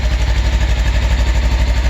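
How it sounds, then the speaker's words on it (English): A Lifan KPR 200 motorcycle with its factory exhaust idles close by, a steady, even thump of single-cylinder pulses that stays loud and regular throughout. "It's got a nice sound. It's got the factory exhaust."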